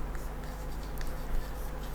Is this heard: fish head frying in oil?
no